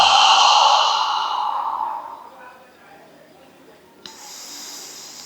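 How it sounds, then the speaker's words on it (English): Deep breath in and a long exhale through the mouth during a Kundalini kriya practice, a loud breathy rush that fades over two seconds, followed by a quiet pause and a softer airy hiss. "Let's inhale deeply together and exhale through the mouth."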